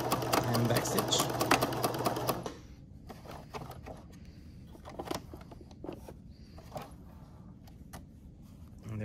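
A sewing machine stitches a 1/2 inch seam in a loud, steady whir for about two seconds, then stops. Soft clicks and handling noises follow, and a voice may be talking quietly in the background.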